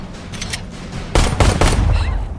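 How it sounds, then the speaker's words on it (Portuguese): Three warning gunshots from Mad Max: Fury Road crack out in quick succession, loud and close, after a quieter stretch of background sound. "ele dá 3 tiros de aviso para parar de vez a briga"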